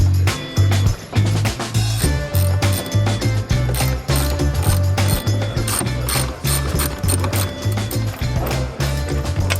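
Ratcheting Torx bits back out the rear roof bolts on a new Ford Bronco, a busy stream of quick, loud mechanical clicks and whirring close by, with no talking.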